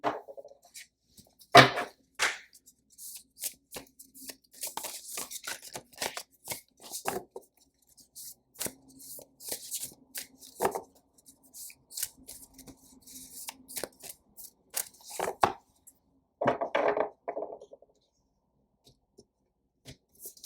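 A deck of oracle cards is handled and shuffled, giving sparse, close card flicks and riffles with scattered clicks and a louder shuffling burst near the end, separated by quiet pauses.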